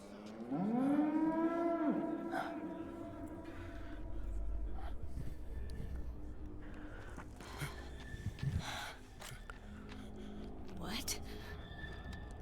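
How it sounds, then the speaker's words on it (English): Cattle moo in a Metal Gear Solid 4 game scene, a long loud low moo followed by snorts and fainter game sounds. "Not those damn cows again."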